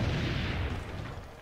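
A cannon fires in Assassin's Creed: Brotherhood as a single deep, loud boom that rumbles and slowly fades.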